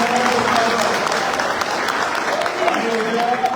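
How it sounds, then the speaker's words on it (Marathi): A crowd applauds loudly and steadily throughout, dense clapping from an audience at a political thanksgiving rally after municipal council election wins, with a voice partly heard under the clapping. "देखील टाळ्या वाजवा."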